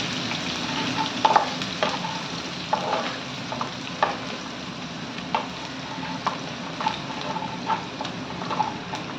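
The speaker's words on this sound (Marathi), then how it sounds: "कांदा गोल्डन होईपर्यंत परतून घेणार आहोत" Finely chopped onion sautéing in a pan for dal khichdi, a steady close sizzle punctuated by repeated light clinks and scrapes of the spoon at an uneven pace, with no voices.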